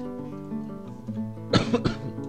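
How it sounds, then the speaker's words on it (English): A short burst of several close, loud coughs from a man, over faint steady background tones. "I'm just going to pause this video while I have a coughing fit"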